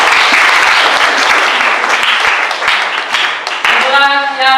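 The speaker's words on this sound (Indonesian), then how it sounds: "berikan tepuk tangan untuk" A school class breaks into loud applause, dense clapping from many hands filling the room for several seconds, then fading as a voice starts speaking near the end.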